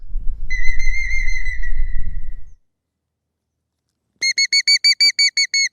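Electronic squealing coyote calls from a predator caller set on a bale ring out: a long wavering whistle over low rumble, a pause of silence, then eight quick, sharp, evenly spaced yelps.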